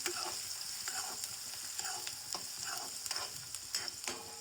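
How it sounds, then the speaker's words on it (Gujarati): Onions fry in a pan with chili, cloves and peppercorns for masala rice, a soft continuous sizzle under regular scraping stirs, several strokes in even rhythm, with no voices. "આપણે આમાં નાખી દઈશું કાંદા. સારી રીતે હલાવી નાખશું."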